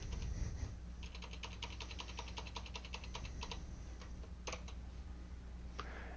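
Rapid, light keystrokes on a computer keyboard come in a quick burst of even clicks, then a few scattered taps, close but quiet over a steady low hum.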